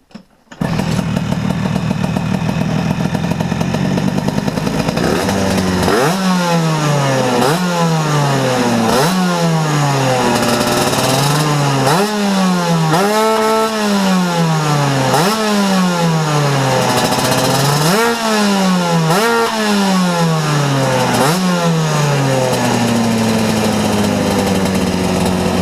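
A motorcycle engine fitted with an Ignitech DC-CDI-P programmable ignition starts and runs close up, revving repeatedly in rising and falling sweeps with a raspy, high-pitched tone, then settles back to a steady idle.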